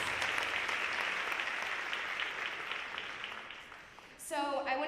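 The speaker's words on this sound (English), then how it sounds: "You guys should give yourself a round of applause." Applause from a school audience at a senior honor night rolls on for about four seconds, dense and close, then eases off as a speaker starts talking.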